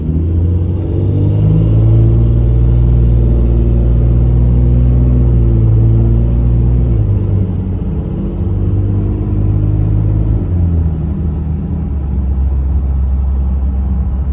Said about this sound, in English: That ticking noise isn't from the transmission